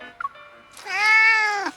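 An orange tabby cat in a video game lets out one loud, drawn-out meow, close and clear, after a faint brief chirp.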